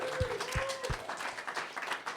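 Audience at a live comedy show at the Museum of Comedy in London applauding, a fairly faint patter of many hands with a few sharper claps, and a voice over it.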